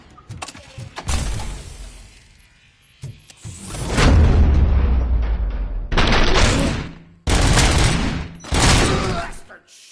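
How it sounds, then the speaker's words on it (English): Heavy bursts of gunfire from the video game Robocop: Rogue City, loud rattling volleys and booms that come in several long blasts separated by short gaps, mixed with game sounds and some talk. "Am I hearing gunshots?"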